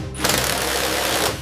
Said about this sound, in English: Start the manual override procedure. Engaging the hand pump.